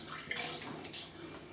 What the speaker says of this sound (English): I just got some water and put it on my face.